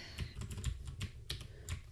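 Rapid clicking of computer keyboard keys while a SQL query is entered, a steady run of close, crisp keystrokes in quick irregular bursts with no voices.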